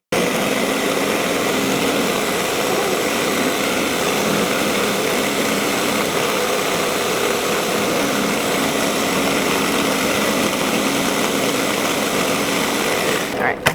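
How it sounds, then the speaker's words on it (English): A blender whirs steadily as it blends frozen fruit for an acai bowl, a loud continuous motor drone running unbroken for over thirteen seconds before cutting off at the end. "I'm going to start one more time so we don't have to blend it as much"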